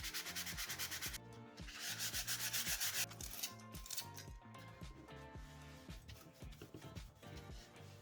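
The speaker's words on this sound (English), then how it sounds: "Ooh, that's really rough. So I'm gonna sand it." A rough wooden puzzle piece is sanded by hand in quick, repeated rasping strokes. The scratchy rubbing is close and fairly quiet, with a steady back-and-forth rhythm that loosens slightly toward the end.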